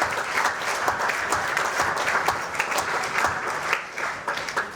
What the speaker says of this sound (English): Ladies and gentlemen, give all those people a round of applause.